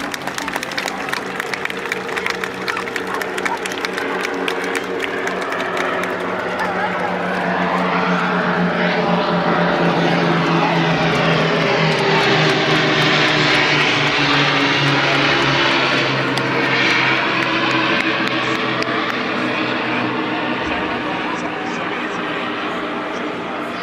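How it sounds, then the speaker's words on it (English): Battle of Britain Memorial Flight propeller warbirds making a final pass at the Blackpool Airshow, engine drone swelling as they approach and fading as they go, with a clear rising then falling pitch sweep and crowd or commentary sound beneath. "the Battle of Britain Memorial Flight, final pass"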